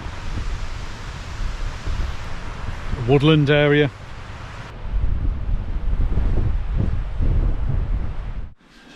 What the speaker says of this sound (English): So the wind's starting to pick up a little bit. You can really feel the gusts when you come up high.